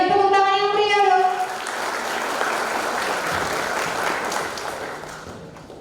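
An audience at a college orientation event breaks into applause just after a voice finishes speaking, the clapping continuing as an even, moderate wash before tapering off near the end.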